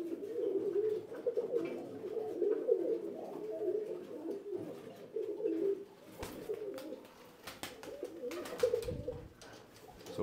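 Rekhtar pigeons coo continuously at close range, a low throaty rolling murmur from several birds, with a few sharp clicks and flutters toward the end.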